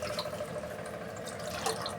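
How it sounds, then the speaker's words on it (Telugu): Water runs steadily into a pot of khichdi, a continuous splashing, gurgling flow with small drips, close and alone. "ఇప్పుడు వాటర్ వేసి"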